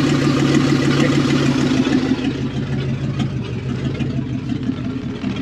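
1959 Ford F250 4x4 truck engine running, with a fault in the ignition and the choke not yet hooked up, a steady close, loud idle hum with a low drone that drops slightly partway through.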